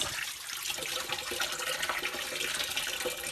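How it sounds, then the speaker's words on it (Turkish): Lamb intestines for mumbar are rinsed in water, giving a continuous close splashing and sloshing with running-water hiss and no voices. "Bunu iki üç su daha yıkayacağız."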